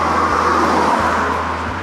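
Cars passing on a road through the mountains of Snowdonia in North Wales, a steady traffic rumble with several vehicles swooshing by one after another, fairly loud and near.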